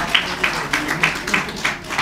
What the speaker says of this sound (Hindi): तालियां बजाते रहिए आप लोग, हौसला अफजाई होती रहे एक दूसरे की।